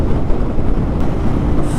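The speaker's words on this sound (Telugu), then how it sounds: "బాబోయ్ విండ్ బ్లాస్ట్ బీభత్సంగా ఉంది గైస్" Strong wind blasting across a microphone while riding a motorcycle on the road from Bangalore to BR Hills, a loud, continuous rumbling buffet with no voices.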